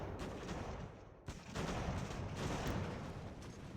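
Volleys of musket fire from Ultimate General: American Revolution roll on as a continuous, fairly faint crackling rumble, broken by a short gap and then picking up again.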